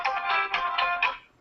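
A mobile phone ringtone plays a repeating pattern of bright electronic chirps, about five quick pulses, that fade out at the end.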